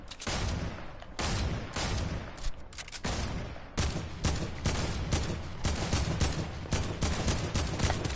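Video game gunfire in bursts, with rapid volleys and sharp cracks separated by brief gaps, loud and close, with several clusters of shots packed together and no speech.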